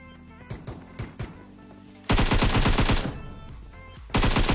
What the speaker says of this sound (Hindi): जैसे मैं फिनिश करने के लिए फायरिंग करता हूँ